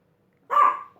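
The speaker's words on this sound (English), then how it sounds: "You guys, I apologize for the barking." A single dog bark bursts out loud and close indoors in a home, following near silence, then trails off with a short whimpering tail.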